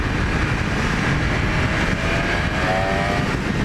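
A 2020 BMW S1000RR sport bike engine roars loud and close at high revs, a steady dense drone with wind rush throughout, without any talk.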